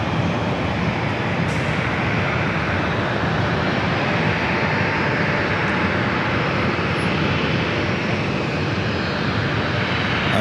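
Southwest Airlines jet roaring down the runway on takeoff at San Diego airport, a loud continuous broadband engine rumble that stays strong and steady throughout with no speech.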